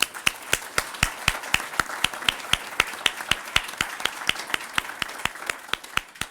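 Scattered, slow applause from a small audience at a conference, with distinct individual claps in a loose steady rhythm, close and crisp, fairly sparse.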